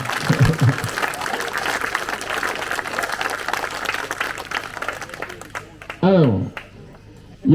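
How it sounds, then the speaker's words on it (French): A crowd applauds steadily for several seconds at a well inauguration in France, a dense wash of clapping, then it thins out and a voice speaks briefly near the end. "Il faut les applaudir, les femmes."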